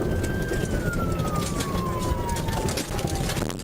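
A police car siren wails from a stolen police car, a single steady tone sliding slowly downward, heard loud over a dense rumble of engine and road noise.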